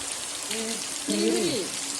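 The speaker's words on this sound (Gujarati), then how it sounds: "કેટલો બધો વરસાદ આવી ગયો" Heavy rain pours down steadily as a dense, even hiss, with a few brief voices talking faintly under it.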